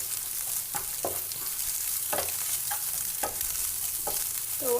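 Pointed gourd, potato and egg being stirred in a frying pan, a soft steady sizzle broken by repeated spatula scrapes in an uneven rhythm, close by with no talking.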